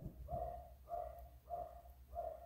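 Several dogs bark upstairs, heard muffled and at a distance through the floor as four evenly spaced bursts about half a second apart over a low background hum.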